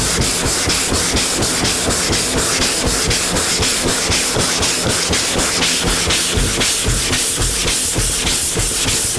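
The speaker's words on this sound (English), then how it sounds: "See, I sanded here a little bit." Primer on a car body being block sanded by hand, a loud, steady rhythmic rasp of back-and-forth strokes repeating evenly throughout, close up with no talk.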